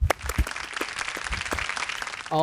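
A small group claps in a studio interview, a few scattered, uneven hand claps with sharp individual strikes, brief and sparse rather than a full round, ending as a tone comes in.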